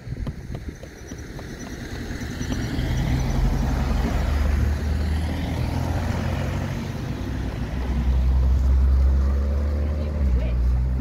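A wagon on a road near traffic lights rumbles past a horse out on a hack, its low engine drone building and swelling toward the end, with hoof clops and people talking over it.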